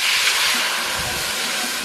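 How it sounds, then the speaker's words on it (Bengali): Water poured into a hot wok after frying chillies, a loud continuous steam hiss that fades slightly over a couple of seconds. "কড়াইতে এবার আমি জল দিয়ে দিচ্ছি।"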